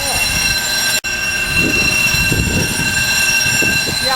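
A roof intruder alarm bell at a house in Cuenca, Ecuador rings continuously and shrilly throughout. A brief cut near the start and a rumbling background run underneath the ringing.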